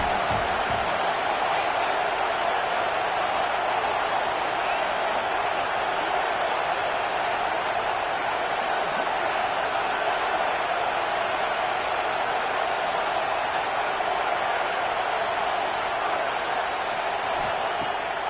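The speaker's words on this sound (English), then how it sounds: "Man, this crowd really affecting the football game." A home crowd at a football game roars loudly and steadily in a thick, unbroken wash of cheering that never lets up throughout.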